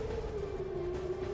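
An air raid siren sounds during missile strikes in Israel, a single sustained wailing tone held steady and fairly faint in the distance, heard alone.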